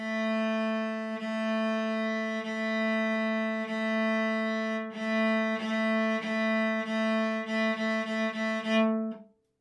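A cello bows a single repeated pitch: long held minims, then shorter even crotchets, then quick rapid quavers ending on a stronger note, solo.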